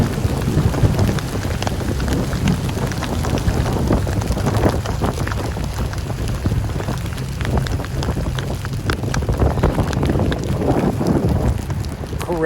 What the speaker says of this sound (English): Oh my goodness, it's hail out here.